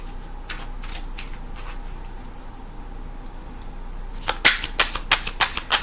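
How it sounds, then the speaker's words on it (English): Tarot cards are handled and drawn from a deck, giving soft crisp card flicks early on and then a quick run of sharp riffling snaps near the end, close and alone. "Let me get another card out here for this Magician."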